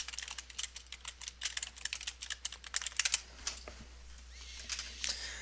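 Rapid clattering keystrokes on a computer keyboard while playing an online game, bursts of close, sharp clicks that thin out toward the end, with no talking.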